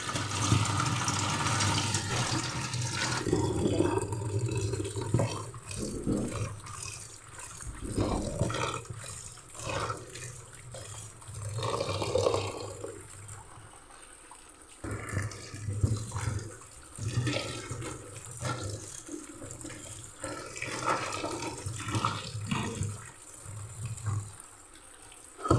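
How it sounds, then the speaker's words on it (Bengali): Greens being washed under running tap water in a kitchen sink, ahead of cooking pumpkin greens into a red lentil dal, give a steady rushing, splashing flow with shifting gurgles, close and fairly loud throughout, with no voices. "শাকটা আমি ধুয়ে নেব।"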